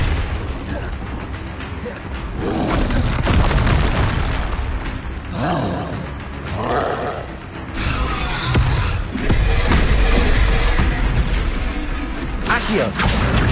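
Confringo explosive spell blasts in the video game Hogwarts Legacy, loud booms mixed with mechanical clanks and dense combat effects in continuous succession.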